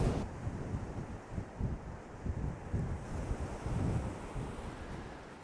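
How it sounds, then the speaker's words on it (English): Strong outdoor wind in Africa buffets the microphone, a loud, gusty low roar that swells and dips in uneven bursts throughout, with no one talking. "They'll test out how good this mic is in this wind."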